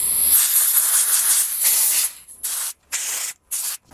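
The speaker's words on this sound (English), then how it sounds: "hit it with some degreaser or alcohol, anything that's gonna get any grease or oil out of there" Degreaser sprayed from an aerosol can into the stripped pedal threads of a bicycle crank arm: a steady, close hiss for about two seconds, then three short separate bursts.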